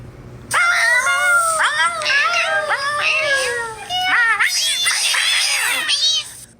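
A cat meows loudly and close in a rapid string of rising and falling cries, then a harsher, more strained wail near the end, over faint background hum.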